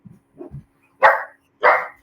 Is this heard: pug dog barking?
yes